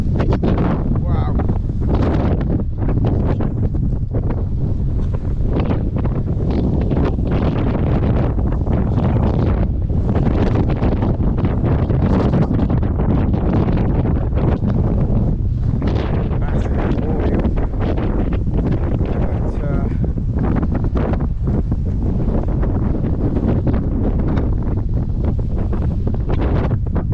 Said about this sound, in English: Very blustery up here.